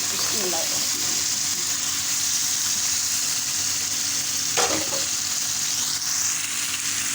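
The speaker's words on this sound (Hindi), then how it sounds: "अब डालने लगी हूँ मैं ये उबला हुआ गोश्त" Boiled camel meat hits a hot pan for karahi, giving a strong, continuous close sizzle with stirring scrapes partway through, while someone talks over the frying.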